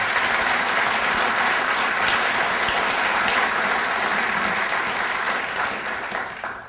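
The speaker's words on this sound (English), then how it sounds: "Let's give them all a big round of applause," A lecture audience gives a big round of applause, dense and sustained clapping filling the hall before gradually thinning toward the end.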